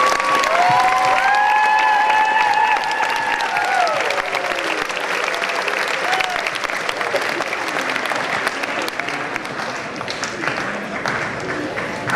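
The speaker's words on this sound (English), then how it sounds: "Let's just give them one more round of applause" Applause fills a school assembly honoring the cross-country team after their state championship, a dense, sustained clapping crowd with some cheers, holding steady throughout, and a whistle-like tone near the start.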